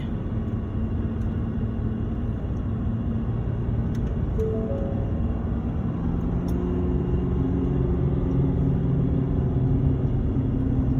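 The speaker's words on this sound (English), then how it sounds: "I don't know if you can hear in the video the air brakes and the truck working." A truck pulling a 40-foot rig labors along a mountain road, its engine giving a steady deep rumble with shifting tones, and brief sharp hisses from the air brakes break in near the middle.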